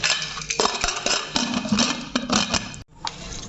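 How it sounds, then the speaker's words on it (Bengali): Metal clinks and clatter of a pressure cooker lid being fitted and closed in a home kitchen while cooking duck curry, a run of sharp close knocks and scrapes ending in a brief silence. "কুকারের ঢাকনাটা আমি বন্ধ করে দেব"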